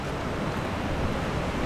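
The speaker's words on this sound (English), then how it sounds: "Multiple waterfalls." Multiple waterfalls at El Chiflón in Chiapas, Mexico, a steady loud rushing roar of falling water filling the whole clip without breaks or voices.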